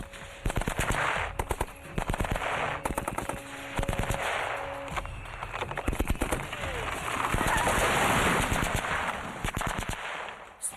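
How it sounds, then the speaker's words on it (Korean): Machine gun firing at a target in an 1887 trial, loud rapid bursts of shots with strong recoil, the firing intervals tightening, interleaved with sustained noisy stretches and a faint tone in the background. "총알은 전부 표적에 명중합니다."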